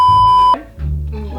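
A phone text-message notification gives one steady, bright electronic beep lasting about half a second, then cuts off, and a low, muffled background rumble follows.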